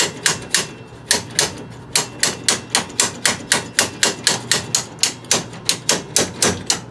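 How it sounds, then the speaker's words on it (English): Sharp, close metallic taps from channel grips used as a hammer during emergency brake cable repair on a 2003 Dodge Dakota, struck in a quick, steady rhythm, about three per second, without pause. "I used them sort of like a hammer to tap this"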